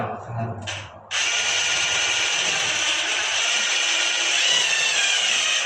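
Power drill boring holes in a wall to install a Stiebel Eltron WS45 water heater: a brief starting burst, then a loud sustained high whine running to the end, close by, with someone talking briefly at the start.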